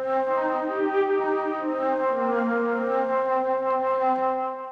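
Mellotron Warm Flutes patch from the GForce M-Tron Pro plugin, a soft, breathy sustained flute chord that holds steadily with gentle shifts in its inner notes, alone and fairly close.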